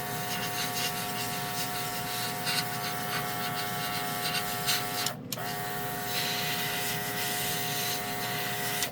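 Airbrush spraying 2K paint onto a model car's front fender, a continuous fine hiss with a steady tonal whine that runs throughout and briefly cuts out midway before resuming, with no talking.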